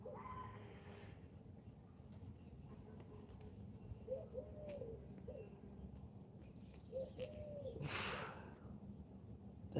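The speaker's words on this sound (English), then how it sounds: "Is that a bird or something?" A couple of faint, short warbling bird calls rise briefly above a steady low background hum, separated by a few seconds.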